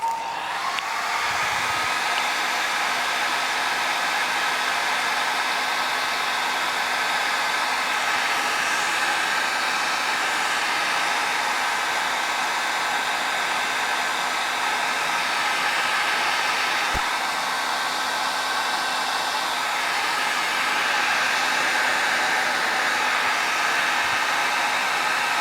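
A hair dryer blows steadily and loudly on alcohol ink art, a continuous whooshing airflow with a constant motor whine that runs without a break.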